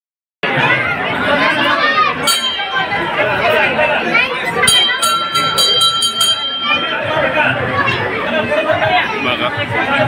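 A dense crowd of devotees waiting at a Ganpati temple, loud close chatter of many voices with temple bells ringing briefly in the middle, continuous throughout.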